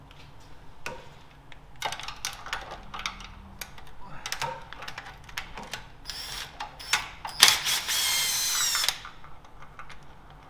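A power tool working oil pan fasteners on a Chevrolet 4.3 V6 Silverado: short bursts of ratcheting and clicking, then a louder sustained whir for about three seconds near the end, close in a garage setting.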